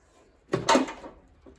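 A car battery drops into its tray on a 1994-1996 Chevy Caprice with a single close, hollow thunk and a short rattle that fades, then a faint tap follows.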